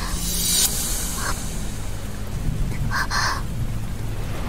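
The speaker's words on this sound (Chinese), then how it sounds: "下雨" Steady rain falls in a thunderstorm, with a low rumble beneath a constant wash of drops, and no one speaking.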